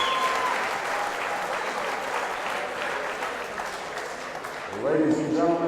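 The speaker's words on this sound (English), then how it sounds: "let's have a nice round of applause for both fighters" A boxing crowd at the Hard Rock Hotel on Daytona Beach, Florida gives both fighters a sustained round of applause after six rounds, loud and even, before an announcer's voice returns at the end.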